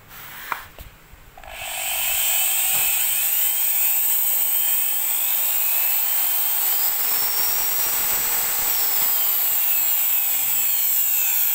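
A handheld power drill runs in reverse: a few clicks, then the motor spins up to a loud, continuous whine that holds steady for about ten seconds with a slight pitch drift.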